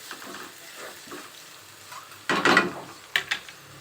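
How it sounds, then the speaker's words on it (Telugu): Onions are stirred in a pan for potato egg curry: short scraping and sizzling bursts of spoon against metal, close and moderately loud, between quieter stretches. "ఆనియన్స్ వేసి ఒకసారి ఇలా కలుపుకోండి."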